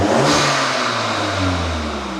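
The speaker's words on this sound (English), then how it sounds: "There's not a lot of sound from that exhaust at all." A Mk8 Golf GTI in sport mode with its particulate filter deleted revs up close, a short throaty exhaust roar whose pitch rises then falls away, heard alone.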